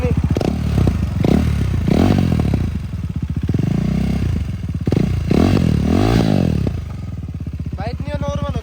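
A KTM Duke 390 engine idles and revs in rising and falling swells close by, with someone talking over it for much of the time.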